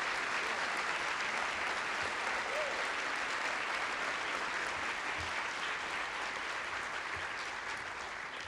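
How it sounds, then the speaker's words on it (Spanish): Sustained applause from a conference audience welcoming Nobel laureate Mario Vargas Llosa before his lecture on liberty, a steady, dense wash of clapping that stays even for the whole stretch, fairly distant and soft. "Mario Vargas Llosa, para quien pido un fuerte aplauso esta mañana"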